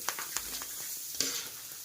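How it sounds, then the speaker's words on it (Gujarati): Steady hiss and crackle of colourful bhungla snack pellets frying in hot oil, with a few sharper pops and spatters rising over the continuous sizzle. "તો તેલ ગરમ થઈ ગયું છે, આપણે ભૂંગળા છે એ તળી લેશું।"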